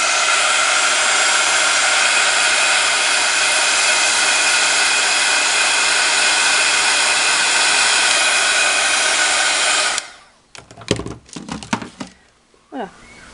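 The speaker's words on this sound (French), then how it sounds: "un petit coup de séchage pour vous montrer l'effet que ça donne quand c'est sec" A hair dryer blows steadily and loudly at close range for about ten seconds while drying Dylusions spray ink on paper, then cuts off, leaving brief clicks and handling noises.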